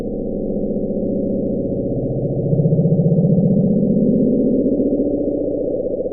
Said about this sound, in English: Sound 1, the bloop.